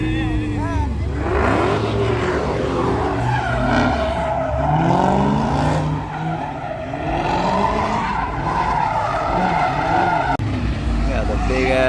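Tires squeal and skid as cars slide on a wet road on a rainy night, with a BMW and other muscle cars among them, loud and continuous under engine roar, while people talk throughout.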